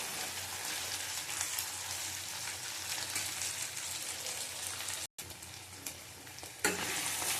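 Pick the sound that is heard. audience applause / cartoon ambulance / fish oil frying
fish oil frying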